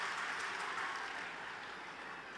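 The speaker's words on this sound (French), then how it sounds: "Encore une salve d'applaudissements pour tous les scouts qui ont partagé dans cette performance." An audience applauds scouts after a performance at a Muslim Scouts of Algeria national scout day ceremony, with steady, dense clapping that fades slightly toward the end.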